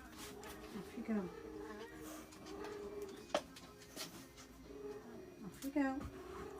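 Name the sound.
cat meowing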